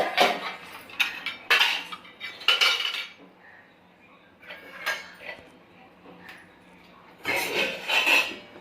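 Pots and metal utensils clatter and clink in bursts as they are stacked in a home kitchen, close and fairly loud, with quieter gaps and a person speaking now and then.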